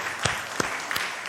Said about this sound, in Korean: 하나님께서 지켜주시니까 박수를 칩시다